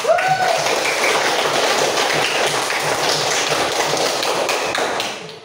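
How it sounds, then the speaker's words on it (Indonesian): A classroom of students applauding a group: dense, continuous clapping from many hands, steady and fairly loud throughout, fading at the end. "Tepuk tangan kelompok 4."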